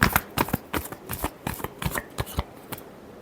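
Tarot cards are shuffled by hand in a quick run of crisp, close riffling slaps and flutters with uneven rhythm, and nobody speaks.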